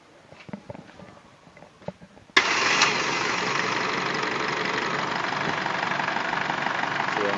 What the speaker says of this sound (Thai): สตาร์ทเครื่องเลยฮะ